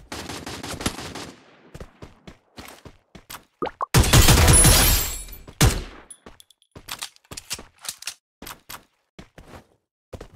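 Gunfire in a shooting video game: sharp single shots and short bursts crackle throughout, with one dense sustained volley in the middle, loud and close, with no talk over it.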